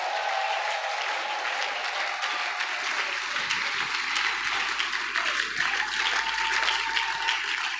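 Applause from a church congregation answering a call to acclaim the word of God during a French-language sermon, a steady dense clapping wash that fills the whole stretch without spoken words.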